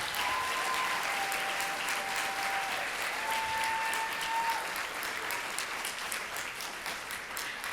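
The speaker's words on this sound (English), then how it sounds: "Let's give these young ladies another round of applause for a job well done." An audience at a 2018 high school pageant gives the contestants a sustained round of applause: full, even, continuous clapping throughout that eases slightly toward the end.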